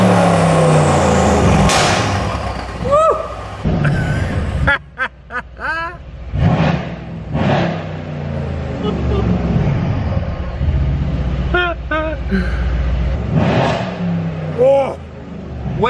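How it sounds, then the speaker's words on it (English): A modified Mercedes-AMG C63 with a turbo is revved hard in repeated bursts, its engine rising and falling loudly up close with turbo whine. A man exclaims excitedly over the revs. "But let's rev it. Oh, listen to that turbo."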